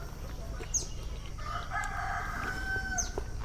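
A rooster crows in the middle distance over steady outdoor background noise, with a few faint bird chirps around it.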